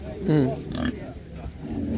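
Pigs at a livestock market offering winter piglets for sale, a short grunting squeal standing out near and fairly loud over a steady crowd and market murmur.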